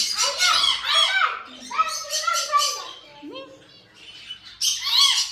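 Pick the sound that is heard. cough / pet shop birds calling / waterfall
pet shop birds calling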